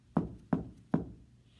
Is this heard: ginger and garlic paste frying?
no